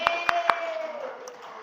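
A few sharp claps from a class applauding a student in a math lesson, three distinct hits in quick succession, then a sustained tone fading out.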